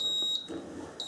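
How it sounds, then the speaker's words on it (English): A Steamfast SF-680 digital steam press gives a steady, piercing electronic beep when it finishes, a continuous tone that drops out partway and returns briefly at the end, heard close up with no talking. "You hear the beep, you know it's ready to go."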